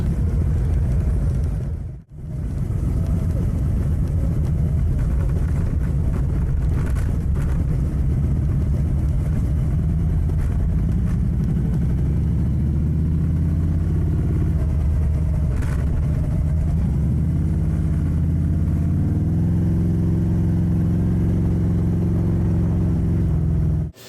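A Harley motorcycle rides a red dirt road, its engine a loud continuous low rumble with a brief cutout early on, then steady throttle shifts and rising, falling pitch as it travels.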